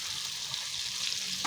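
Ridge gourd and potato frying in a pan with poppy seed and peanut paste just added, giving a steady, close sizzle that builds slightly at the end, with no talking.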